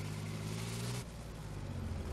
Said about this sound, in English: Clear the road. Car coming ahead.